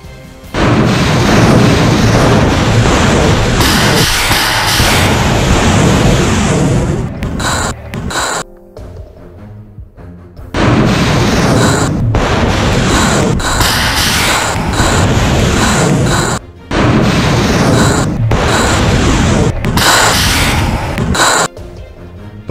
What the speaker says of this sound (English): focusing on subjects such as rapid artillery firepower and multi-artillery coordinated attack